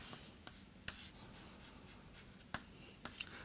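Chalk or a pen writes out a mathematical expression on a board in a quiet room, faint scratching strokes broken by a few sharp taps as marks are made, with no talk.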